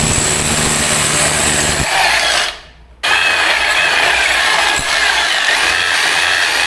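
Close, loud drilling grinds through a shed wall, pausing briefly for about a second before resuming with the same harsh, steady whine.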